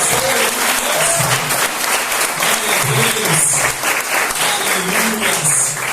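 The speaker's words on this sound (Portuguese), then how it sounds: "Você pode aplaudir ao Senhor," A church congregation applauds during an evening worship service, continuous dense clapping from many hands throughout, with some faint voices mixed in.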